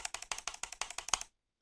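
Computer keyboard typing sound effect: about a dozen crisp, evenly spaced key clacks in a quick run, close and clear, ending abruptly in silence.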